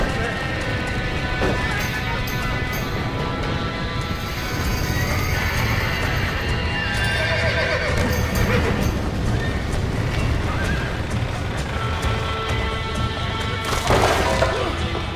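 Panicked horses neigh and whinny inside a burning barn in the Red Dead Redemption video game, with repeated shrill whinnies over a dense, continuous roar of fire, crashes and clattering hooves, loud and close throughout.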